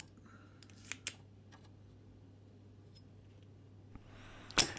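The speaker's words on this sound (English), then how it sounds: "using my desoldering pump, I am going to suck the solder away like so" A desoldering pump fires during soldering work on an Olivetti PCS 286 circuit board: a few faint clicks, then one sharp, loud snap near the end in an otherwise quiet room.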